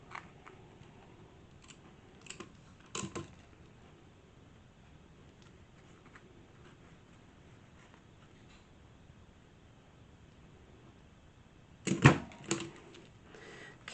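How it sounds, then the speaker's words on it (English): A hole punch presses through sari silk upholstery fabric, giving a sharp clunking snap near the end, with a few lighter clicks and handling noises earlier in an otherwise quiet room. "that punched through the material really well"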